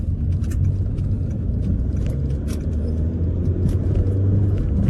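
A Volvo C30 accelerating through the gears on a national speed limit road, heard from inside as a steady, fairly loud engine and road rumble with faint clicks and rattles, and no talking.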